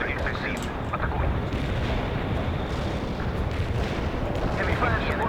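Artillery strike in the video game World in Conflict, a loud continuous roar of heavy shelling and rumbling explosions with dense booms throughout, voices talking over it.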